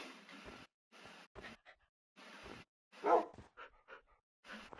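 A young dog barks in short, sharp bursts with whimpers and yips between them, close by and in choppy, irregular bouts.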